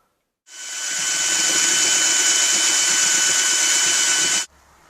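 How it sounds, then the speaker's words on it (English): A power drill with a paddle whirs steadily at full speed for about four seconds, starting and stopping abruptly, with a churning, sloshing undertone of wort being aerated for pale ale. "I'm going to aerate it with the drill and the paddle again"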